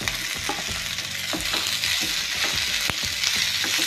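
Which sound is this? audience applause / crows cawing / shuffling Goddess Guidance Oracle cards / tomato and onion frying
tomato and onion frying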